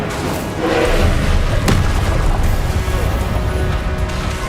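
The Incendio fire spell goes off in Hogwarts Legacy as a loud, full-bodied burst with a sharp onset, followed by a sustained roaring rush that fills the moment.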